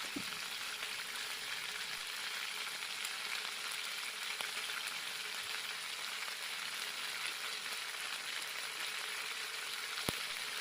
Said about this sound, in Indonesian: Kemudian kita tumis bumbu yang sudah kita haluskan tadi hingga harum